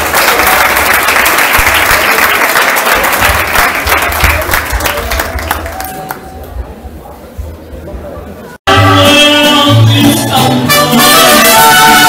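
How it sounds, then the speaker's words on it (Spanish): Warm audience applause at a school year opening ceremony, steady clapping that thins and fades, then cuts abruptly to lively music with voices and chatter. "Para ella, un caluroso aplauso."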